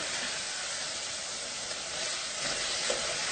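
Chili powder hitting hot oil for a Tamil chicken kuzhambu gives a steady, close hiss of sizzling throughout, with no talking over it.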